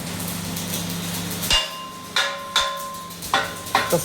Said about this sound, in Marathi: चला मला एक छिद्र मारून दाखवा